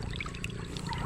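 Water runs and trickles steadily into a fish pond beside a lechon house, a continuous splashing flow heard up close with no voices.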